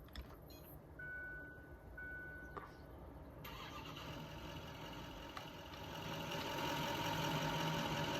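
A pickup truck engine without dual rear wheels chimes, cranks briefly, then catches and settles into a steady rumbling idle, heard up close with no talking.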